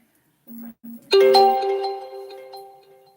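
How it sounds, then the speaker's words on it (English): A mobile phone sounds a notification: two short low beeps, then a bright ringing chime that rings out and slowly fades, close and clear. "You can hear that pinging, it's my phone."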